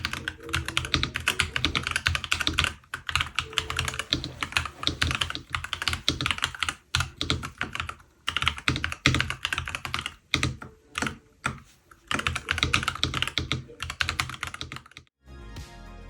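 Rapid, continuous clacking of keys on a NuPhy Halo75 mechanical keyboard, in bursts with brief pauses, close and crisp.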